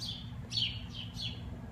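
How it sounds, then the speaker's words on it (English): Several birds chirp indoors in a department store, with a few short, bright calls spaced through the clip over a steady low indoor hum, and nobody speaking. "There's a ton of birds in here."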